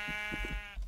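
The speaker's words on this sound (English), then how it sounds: "I'm going to call you Meh," Sheep in a video game give a few short, nasal bleats in quick succession, loud and close, with no talking over them.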